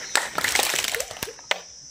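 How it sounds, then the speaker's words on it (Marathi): Hand claps from children doing a jumping yoga exercise at a school Yoga Day event, several sharp claps in quick succession, then two isolated louder claps, with faint voices in the background. "उडी मारून परत टाळी."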